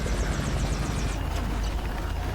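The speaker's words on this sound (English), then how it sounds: "that might be that chopper we saw lead the zombies in Atlanta" A helicopter passing close overhead, a loud, steady rotor chop with a rapid pulsing beat that fills the whole short moment without any talk.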